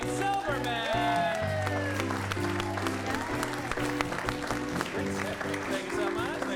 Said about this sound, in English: give a big round of applause to Beaver Ambassador Steve and Jake Silberman